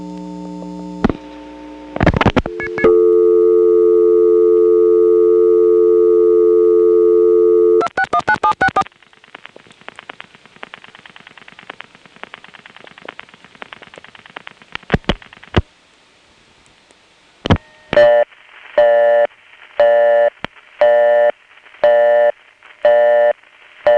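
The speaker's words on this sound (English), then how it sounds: "From the staticky noise under that busy signal" Busy signal on a call over a wire trunk to a crossbar No. 5 central office in Buckhead, 1977: steady tones and clicks give way to loud, evenly spaced busy-tone bursts over faint static hiss.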